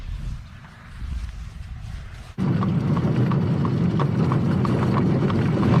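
Hooves of a horse pulling an Amish buggy clip-clop steadily at close range, a regular rhythm starting abruptly partway through and continuing loudly over a rumbling ride, after a quieter opening.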